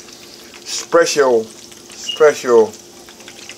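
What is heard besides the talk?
chicken frying in a pan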